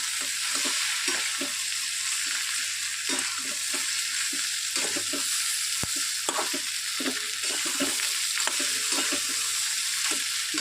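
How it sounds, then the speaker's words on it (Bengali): A spoon scrapes and stirs crab curry with fried potatoes in a pan, making repeated rhythmic scraping strokes over a constant close sizzle, with no voices. "এবার একটু নাড়াচাড়া দিয়ে মিশিয়ে নিই।"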